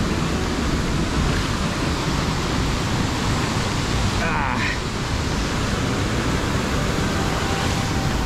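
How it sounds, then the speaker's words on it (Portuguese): Strong water current rushes at a waterfall in Chapada Indaiá, a loud, steady roar of churning water close by that never lets up, with a brief voice cutting in once near the middle. "Tá bem forte a água, dá para sentir que tá puxando pra caramba."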